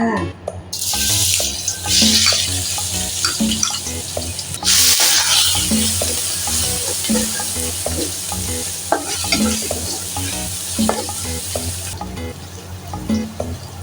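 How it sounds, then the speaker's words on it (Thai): Pounded garlic paste stir-fries in vegetable oil, a loud continuous sizzle with rhythmic spatula scraping and stirring throughout, close up and with no talk. "ผัดให้เหลืองเลยนะคะนี่หอมเลยเริ่มเหลืองแล้วค่ะหอมมากเลย"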